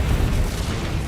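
Confringo and Incendio spell explosions in the Hogwarts Legacy video game, a dense low rumbling boom that fills the brief moment without a break, loud and close.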